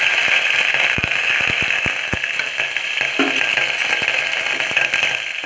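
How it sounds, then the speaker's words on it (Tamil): Curry leaves dropped into hot oil already crackling with popped mustard seeds, urad dal and chana dal, starting a potato kurma gravy; a steady, loud sizzle with sharp crackles and pops throughout, no voices. "இப்போ நம்ம கறிவேப்பிலை போடுறோம்."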